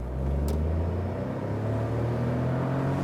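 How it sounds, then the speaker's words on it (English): A Smart Brabus small car accelerating hard from standstill at full throttle, a loud continuous engine drone with steady low rumble and rising pitch throughout, no talk. "let's hammer the throttle"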